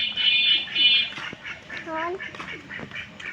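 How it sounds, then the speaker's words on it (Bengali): Ducks quack repeatedly at close range, bursts of nasal calls scattered across the clip, with a person speaking over them outdoors. "হাঁস এই যে দেখছেন এখন বয়ে যাচ্ছে আমাদের দেখে"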